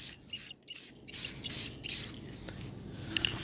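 Primer is spray painted onto a vintage railplate in several short, close hissing bursts with brief pauses between them, loudest in the middle of the passage, with no talking.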